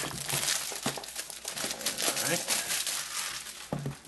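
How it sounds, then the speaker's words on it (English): Plastic wrapping crinkles and tears off a Monster Powerbeats by Dr. Dre headphone box, close and fairly quiet, with repeated crumpling bursts and someone talking faintly over it. "So we'll just rip the plastic off here."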